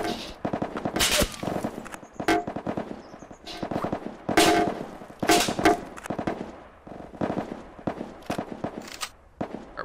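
Bursts of gunfire strike a house in the VR game PunjiVR, rapid cracking volleys arriving in several clusters across the stretch, loud and close, with no one talking.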